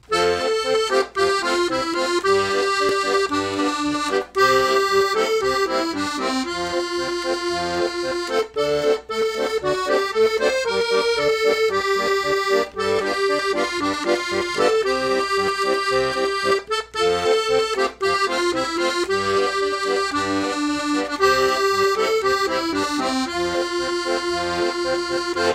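A 32-bass accordion plays Yankee Doodle with alternating bass, reedy melody on top with a bouncing bass-chord accompaniment underneath, continuous and moderately loud with no voices.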